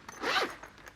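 A quick, soft zip as a zipper is pulled along the large bottom compartment of a Mosko Moto Nomad motorcycle tank bag, close and brief.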